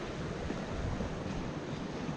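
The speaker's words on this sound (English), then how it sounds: "the water's coming into this pond, which is probably a beaver pond" Water flowing into a likely beaver pond in a state park woodland, a steady broadband rushing wash with no breaks, fairly close and unaccompanied by voices.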